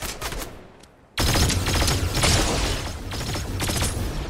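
Rapid gunfire in the Fortnite video game, a loud dense burst of shots that breaks off briefly, then resumes as sustained heavy firing with booming impacts.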